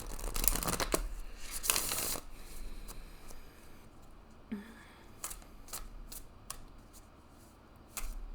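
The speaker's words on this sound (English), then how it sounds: "I'm going to go ahead and pull a couple of moon deck oracle cards for you." Moon deck oracle cards being shuffled by hand, giving repeated crisp riffling bursts near the start, then quieter intermittent slides and taps of the cards, close up with no talking.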